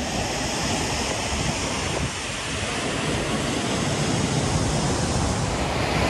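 Broadband rushing water fills the whole clip, a steady, loud roar of river flow below a dam spillway, with no voices.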